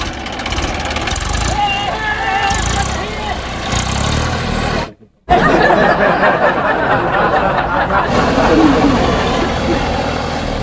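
A tractor engine idles and runs with a steady, loud mechanical drone, briefly cutting out before rumbling on, with voices talking over it.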